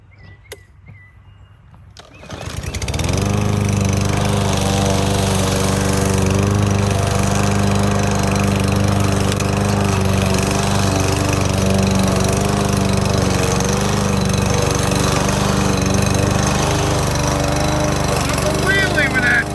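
A lawn mower running in a garden, starting loud and close after a brief quieter moment and then droning steadily with strong harmonic engine tones, with voices talking over it.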